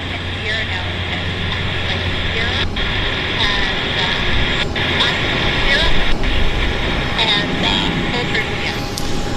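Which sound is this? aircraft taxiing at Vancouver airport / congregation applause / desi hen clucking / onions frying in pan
aircraft taxiing at Vancouver airport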